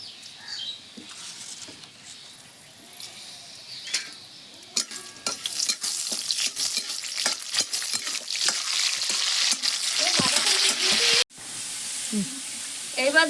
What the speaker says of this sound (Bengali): ফোড়নে দিয়ে দেবো তেজপাতা, শুকনো লঙ্কা